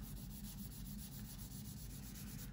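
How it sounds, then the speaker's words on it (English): Steady abrasive rubbing of an 800-grit sanding stick along a seam on a Tamiya 1/48 F-16CJ plastic model kit, a continuous close scratchy scrape in quick short strokes with no pauses or talk. "now I'm going to start sanding out the rest of that seam"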